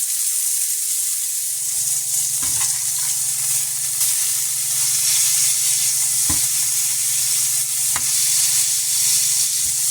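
Tex-Mex burger patties sear in a hot skillet, giving a steady, close sizzling hiss that runs throughout, broken by a few sharp pops and spatters.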